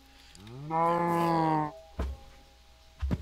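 A single drawn-out cow moo from a Minecraft automated cow breeder, rising then holding steady for about a second, followed by a few short dull thumps.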